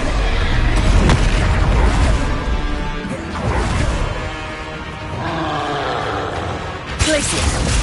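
Booming, crashing spell blasts from a wizarding video game, several impacts and whooshes across the stretch amid a dense battle din, with voices in the mix.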